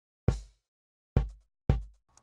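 Three punchy kick drum hits, each a sharp low thump with a quick decay, spaced unevenly, followed by a tiny faint click.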